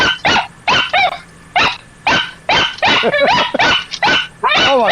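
A dog barks loudly and close by in sharp repeated bursts with short gaps, some notes rising into whiny yelps, alone with no voices.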